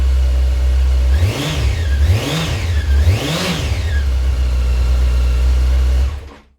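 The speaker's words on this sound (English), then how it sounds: "Nice, throaty, deep tone to this bike." Motorcycle engine with a sports exhaust running on choke, a deep throaty drone close by with three smooth rising-and-falling swells as the throttle is blipped, steady and loud with no talking until it cuts off near the end.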